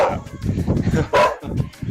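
A dog barks a few times indoors, the barks mixed in with a person talking nearby during a livestream.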